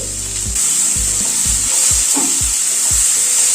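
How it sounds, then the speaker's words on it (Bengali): Tomato chunks frying in a pan for arhar dal with drumsticks and papaya, a loud bright sizzle with a regular series of scraping spatula strokes, about one every half second, up close. "টমেটোটা দিয়ে আবার একটু নাড়াচাড়া করে নিচ্ছি।"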